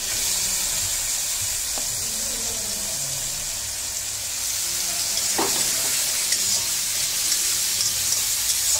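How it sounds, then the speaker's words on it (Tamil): Onions and prawns sauté in a hot pan, giving a steady sizzle with occasional stirring scrapes and clinks, moderately loud and without talk. "வெங்காயத்தை ஒரு 5 நிமிஷம் நல்லா வதக்கிடலாம் கூடவே பிரான் சேர்த்துடலாம்"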